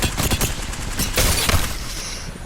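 Automatic gunfire in Apex Legends, a dense rapid burst of shots with sharp cracks running continuously for about two seconds and then trailing off.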